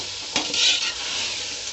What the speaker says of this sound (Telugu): అన్నీ కలిసేటట్టు బాగా కలుపుకుందాం.